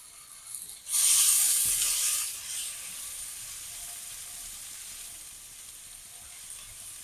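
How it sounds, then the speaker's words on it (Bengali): Two large onions frying in oil until brown for beresta, a crisp onion garnish for hilsa biryani, with a loud burst of sizzling at first that settles into a steady, softer crackling hiss. "সুন্দর করে ব্রাউন কালার করে পেঁয়াজটা ভেজে নিলেই বেরেস্তা তৈরি হয়ে যাবে।"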